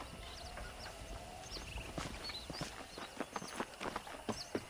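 Horse hooves clip-clopping in the video game Red Dead Redemption, a quiet uneven run of light hoofbeats that grows a little more distinct toward the end, with no talk.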